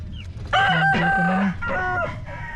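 A rooster gives a loud, close crow among backyard chickens on a small farm, the drawn-out call rising and breaking into several segments, with faint clucking around it.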